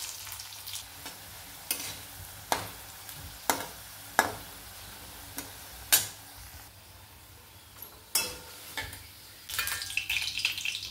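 Alu vadi pieces fry in a little oil over a low flame, a soft steady sizzle broken by intermittent sharp scraping stirs and clinks against the pan, close and without talk.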